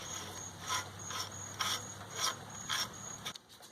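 A retainer nut spins onto a truck axle spindle during a wheel bearing job on a Toyota Tacoma with a solid axle swap, giving a series of soft, rhythmic ratcheting clicks up close, then stopping with a brief clatter.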